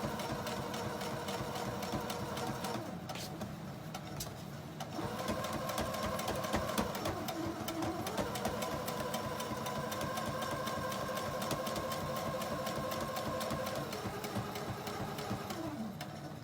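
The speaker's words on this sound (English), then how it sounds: "I can actually stitch a straight line" A sewing machine stitches a straight line in white thread on a holiday table runner, its motor running in a fast, even mechanical whir close by, pausing briefly before resuming steadily.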